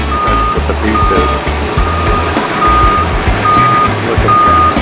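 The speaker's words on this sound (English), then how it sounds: "Got a tour bus backing up on me." A tour bus backs up outdoors in Kona on Hawaii's Big Island, its loud backup alarm beeping in a steady repeating rhythm over a low idling diesel engine, close by.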